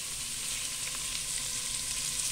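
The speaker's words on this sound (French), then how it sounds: "vais faire revenir d'abord mes oignons là" Onions sautéing in about two spoonfuls of oil for a vegetable soup, a dense steady hiss of frying held close and even for a couple of seconds, with no speech.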